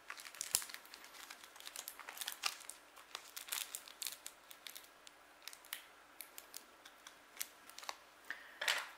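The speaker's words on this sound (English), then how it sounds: "So I'll just take them off the foil, which you can just peel off the back of these." Faint, close crinkling and small sharp crackles come in irregular bursts as aluminium foil is peeled away from the backs of small cooled oven-baked doll teeth.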